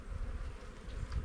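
Honey bees buzz as a steady, low drone from a crowded open hive during a split, a dense close hum that swells slightly in places.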